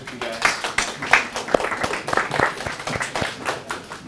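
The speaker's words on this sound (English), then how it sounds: "I just want to give a little applause to Divante for setting it all up." An audience at a tech meetup claps in a brief round of applause, quick scattered hand claps with some voices mixed in, close and lively in an indoor room.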